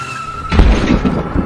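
A car skids to a sudden stop on a night highway as a large black animal darts in front of it: a faint tone, then a loud burst of tyre noise with low thuds, close and harsh.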